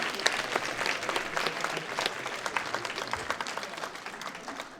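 Sustained applause from a sizable audience at a library event, dense clapping that keeps steady for several seconds without letting up.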